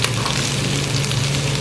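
Chopped onions fry in a pan beside mutton for yakhni pulao, giving a loud, dense, unbroken sizzle close by with no talk.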